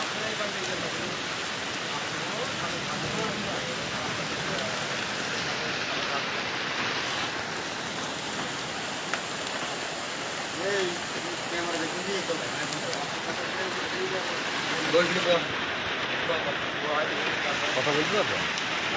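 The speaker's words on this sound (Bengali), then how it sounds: "আবারও স্বস্তির বৃষ্টি শুরু হয়েছে" Steady rain falls across open village ground on a Monday afternoon in Mujibnagar, a dense continuous hiss with scattered nearer patters and a few louder drips, no voices over it.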